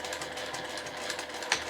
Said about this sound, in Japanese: それではまずこの際を縫いましょう。